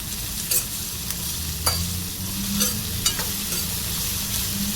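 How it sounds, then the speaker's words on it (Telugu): Onion and curry leaves fry in hot oil in a pan, a loud continuous sizzle close by with a few crisp clicks and scrapes of stirring, no voices. "ఆనియన్ కరివేపాకు మూడు వేసుకొని బాగా ఫ్రై చేసుకోవాలి"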